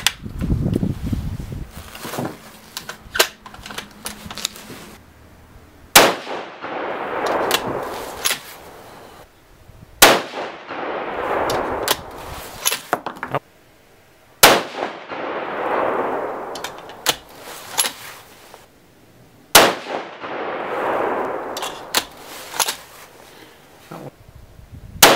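6.5 Creedmoor rifle firing 142gr Sierra Match King rounds, five or six sharp, loud shots several seconds apart, each trailing off into a rolling echo, with no clear steel clang.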